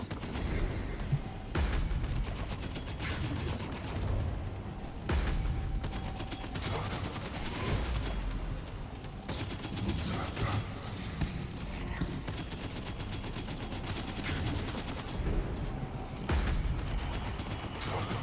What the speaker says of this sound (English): I mean, this is already shooting a lot of bullets